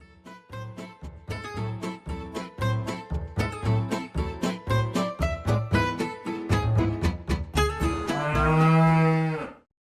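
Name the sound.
cows mooing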